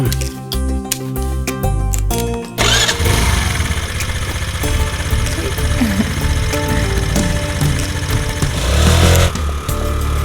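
A motor vehicle, probably a motorcycle, starts with a few rough cranks and then catches. It settles into a loud, steady running engine close by with small changes in revs, and no one speaks over it.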